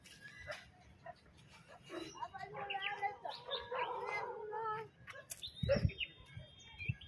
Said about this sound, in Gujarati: આ કૂતરાનો અવાજ કેમ થાય છે?